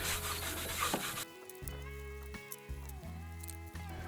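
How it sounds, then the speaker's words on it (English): Paste wax rubbed by hand onto a wooden clamp rack: a soft, close scuffing rub in short strokes, fairly quiet, with no talk. "Just going to rub some paste wax on this just to protect it a little bit."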